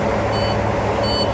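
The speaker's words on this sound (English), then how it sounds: "I'm sorry for the beeping. I'm sorry for the engines running" Two short reversing beeps sound over a steady engine rumble in a vehicle repair shop, with the engines idling continuously beneath the intermittent tones and no talk.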